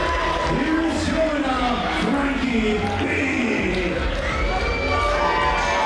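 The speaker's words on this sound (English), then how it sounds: "Oh, this crowd is not happy." A wrestling crowd at a World Series Wrestling show in Melbourne reacts after a match, a dense, continuous roar of voices and shouts that stays loud throughout.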